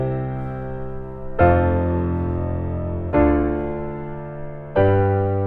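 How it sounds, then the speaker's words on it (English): Thick piano chords struck three times with sustained decay, each full voicing carrying an added right-hand octave note over left-hand octaves, played alone and close. "So if I was to play my chord progression now with that extra note in the right hand and with octaves in the left hand"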